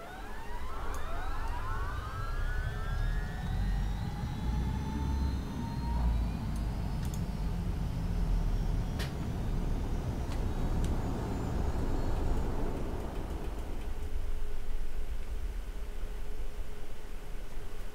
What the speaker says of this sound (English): That should start the left engine.